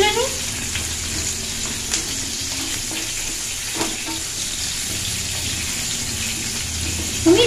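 Chickpea-flour fritters fry in hot oil with a steady, even sizzle. A spatula gives occasional soft scrapes and knocks in the pan, and a faint voice is heard at moments.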